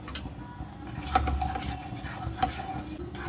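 Cumin seeds crackle in melted butter in a pan, a soft continuous fizz with light stirring scrapes and a couple of sharper pops, close and fairly quiet.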